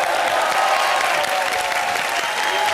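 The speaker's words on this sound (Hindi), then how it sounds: "जोरदार तालियों के साथ स्वागत कीजिए" A TV studio audience on a comedy show set applauds to welcome guests onto the stage, a steady, dense wash of clapping that holds at full strength throughout without letting up.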